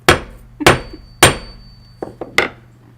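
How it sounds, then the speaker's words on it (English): Five sharp hammer blows at an uneven pace, each a close, loud strike with a short ringing decay, with no talking. "Hammering."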